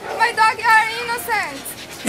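A dog whimpering and yipping in short high-pitched bursts, close and fairly loud, mixed with agitated human voices in a Nollywood movie scene.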